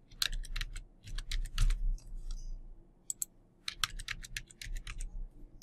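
Quick bursts of keystrokes on a computer keyboard as a password is typed, close and crisp, in two flurries separated by a brief pause, with a low hum beneath.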